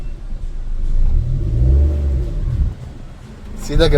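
A car's engine revs and rumbles loudly under a learner driver's uncertain clutch control as the car rolls backward, with people talking over the engine noise.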